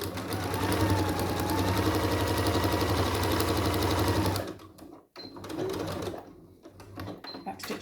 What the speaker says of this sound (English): I'm going to increase my stitch length to 4, so it's a top stitch